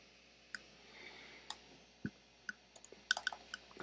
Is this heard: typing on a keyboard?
yes